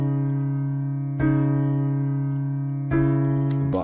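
A dark UK drill beat made in FL Studio with a Gross Beat half-speed preset, slowed and dragged-sounding, with sustained low tonal layers and two hard hits restarting the pattern, playing alone without voices.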